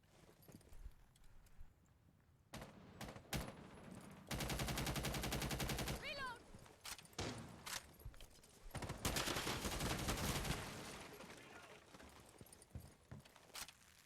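Bursts of automatic gunfire ring out in a PS4 shooter match, sustained rapid volleys interrupted by single shots and short gaps, fairly loud against quieter background game sounds.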